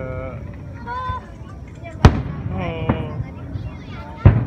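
Sharp firework bangs burst out twice, loud and close, over an ongoing crowd murmur with people chattering and exclaiming throughout, at the Ito Onsen sea fireworks festival at Ito Marine Town.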